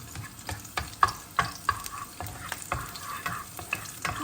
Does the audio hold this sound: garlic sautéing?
yes